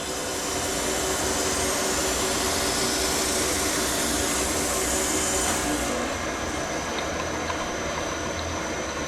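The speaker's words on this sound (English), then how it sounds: "So I'll have a measure up, continue grinding" Crankshaft grinder working a steel crankshaft in an engine workshop, a dense continuous whirring roar with steady hiss, loud and close throughout with no pauses.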